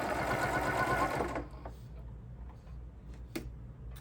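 A sewing machine runs fast stitching a quilted placemat, a steady close whirring rattle for over a second before it stops, leaving a low hum and a couple of faint clicks.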